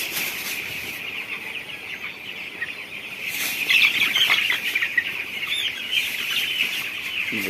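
A flock of broiler chickens clucks and chatters continuously, with occasional wing flaps, a steady dense farmyard din close by.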